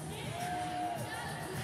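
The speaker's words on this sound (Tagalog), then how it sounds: "Nice Saturday crowd we have on hand here." Crowd at a Saturday PBA Philippine Cup semifinal basketball game between NLEX and Magnolia, a steady arena murmur with scattered faint shouts and whoops, fairly distant, no talk over it.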